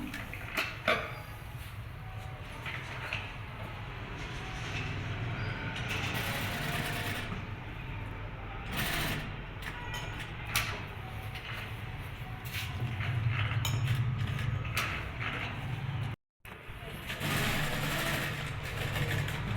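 A sewing machine stitches gota patti lace, running in a steady mechanical whir with a few brief pauses and restarts, heard close and without talk.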